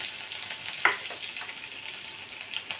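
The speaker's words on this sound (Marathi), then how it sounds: "लसूण चांगला परतला" Crushed garlic cloves frying in a pan, a continuous soft sizzle with a light clink of a stirring spoon, close and steady, no voices.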